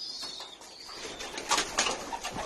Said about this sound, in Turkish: Kuşlarımız çıkıyor.